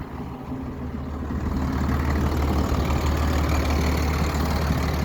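A John Deere 7800 tractor runs with its PTO engaged, giving a steady, low, rumbling engine drone that holds constant throughout with no voices.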